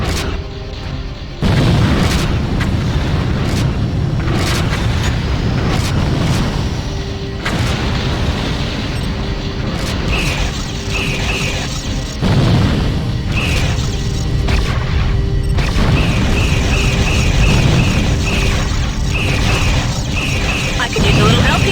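Weapons fire and explosions from a Freespace 2 Open space battle in the Earth-Minbari War, with loud continuous booming blasts, rumbling impacts and repeated mechanical clanking and chirping bursts that carry on throughout.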